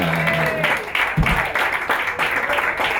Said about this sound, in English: Please give a big round of applause and all of your support to Jason Saenz, everybody.